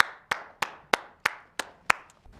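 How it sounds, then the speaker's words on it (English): A lone pair of hands claps slowly and evenly, about seven sharp, close claps in a steady rhythm, with no talk over them. "Give yourselves a round of applause."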